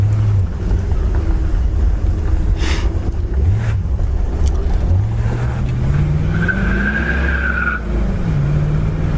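A 1963 Pontiac Bonneville convertible rolls down the road, its engine a steady low drone with rising and falling tones as it speeds up, plus a brief high whine of tire or belt noise midway.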